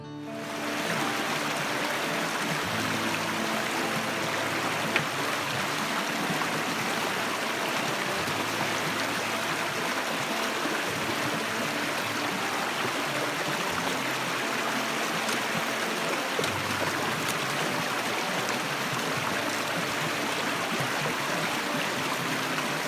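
Creek water rushes continuously through a forest stream in Coeur d'Alene National Forest, Idaho/Montana, a steady close babble and hiss with no talking.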